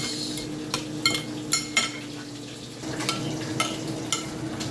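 Raw fish kilawin being mixed with vinegar and sugar, a wet stirring squelch punctuated by several sharp clinks of a utensil against the bowl, close and fairly loud.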